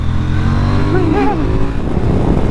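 A KTM 990 Duke motorcycle engine blipped on the throttle, a loud close rumble rising in a quick rev then settling back, with a voice talking over it.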